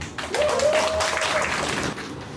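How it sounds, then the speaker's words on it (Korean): An audience claps steadily at a poetry recital, welcoming a reader about to recite Yun Dong-ju's poem; the dense, even applause holds for about two seconds with a faint sustained tone above it, then tapers. "박수!"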